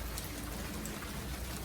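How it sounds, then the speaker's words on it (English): Hail falling and turning to snow at a house in Las Vegas, a steady dense patter of small icy hits on the ground and surfaces, continuous and soft with no voices. "There's enough hail. It's turned into snow."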